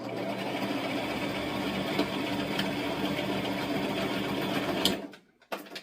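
A sewing machine runs a continuous straight stitch while fabric is pleated for a professional outfit fitting, a steady close whir with fine needle rhythm that stops abruptly near the end.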